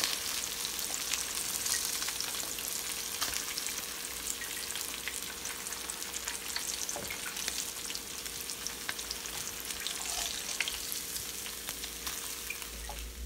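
Hilsa fish frying in hot oil gives a steady, fine crackling sizzle with scattered pops, fairly quiet and continuous with no voices.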